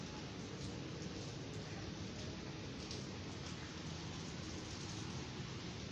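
Light rain falling with strong wind in Karachi, a steady, uniform wash of hiss that is faint and continuous throughout with no distinct drops or voices.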